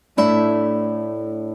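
An acoustic guitar chord with an open A bass, struck once with all notes plucked together, rings out clearly and decays slowly over a second and a half, with no talking.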